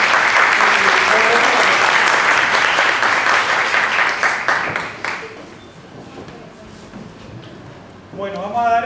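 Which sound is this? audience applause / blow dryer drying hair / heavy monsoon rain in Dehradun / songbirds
audience applause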